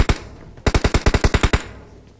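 Automatic gunfire in the PUBG Mobile battle royale game: two quick shots, a pause, then a rapid burst of about nine evenly spaced rounds, loud and close, trailing off into quiet ambience.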